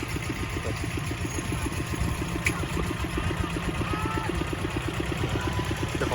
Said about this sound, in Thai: ยันมาสามสิบเก้าแรงม้าครับ ขับโดย อาจารย์พศครับ